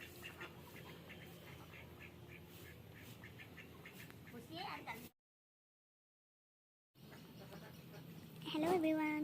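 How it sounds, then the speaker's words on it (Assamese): Domestic ducks quack at a family homestead in a few short bursts, with a voice talking nearby, a silent gap in the middle, and a louder, closer squawk near the end. "এইকেইজনী হাঁহ।"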